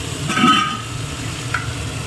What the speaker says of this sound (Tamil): காய் வதங்கிறதுக்காக நம்ம போடுறோம்